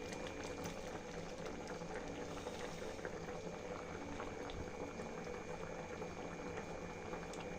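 Sago and carrot payasam boils in a pot, a steady, continuous bubbling and simmering close by with no talk.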